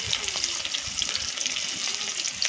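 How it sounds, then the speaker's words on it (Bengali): Chopped onion and garlic frying with radish greens in a wok on a village clay stove, a steady dense sizzle and crackle running throughout, close and moderately loud with no talk. "পেঁয়াজ রসুন দিয়ে দিলাম।"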